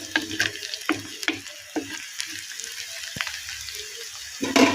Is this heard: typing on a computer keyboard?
no